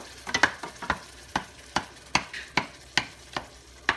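Canned tomatoes are squashed in a cooking pot over the stove, giving a regular series of sharp, wet clacks and squelches about every half second, close and alone.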